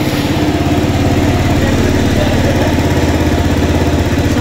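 A KYMCO Racing King 180 motorcycle engine runs steadily after being started with a freshly filled radiator, a loud, close, even idle with rapid regular pulsing and no talk.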